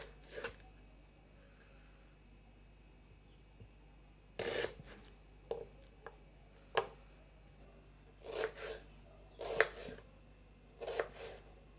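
Onion being sliced for chilli idli, with irregular crisp knife chops against a board, separated by quiet gaps and growing busier toward the end, close and soft with no speech.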